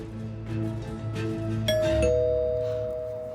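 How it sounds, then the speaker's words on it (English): A doorbell rings, chiming tones that sustain and fade, with a second chime ringing out near the end; no one speaks. "Oh, is that the doorbell?"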